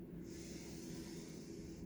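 Someone sniffs in through the nose in one short, steady, airy intake, faint and close with no talk over it.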